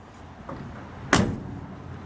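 A 1964 Ford F100 truck door shuts with one sharp, loud thump, preceded by a faint click, then quiet cabin ambience.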